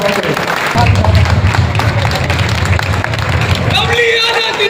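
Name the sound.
crowd applause welcoming speaker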